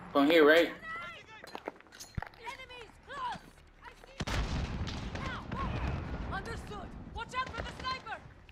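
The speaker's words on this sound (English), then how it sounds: "Whoa, grenade." A grenade blast in Call of Duty: Modern Warfare hits with a sudden loud boom midway, followed by rumbling debris and gunfire, while people talk throughout.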